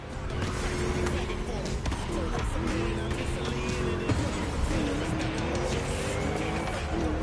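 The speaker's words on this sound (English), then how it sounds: "Just listen to that V8, like a chunky, down-tuned guitar riff" A deep, rumbling V8 car engine in a racing video game revs and drones continuously, loud and close, with changing pitch as it accelerates and shifts.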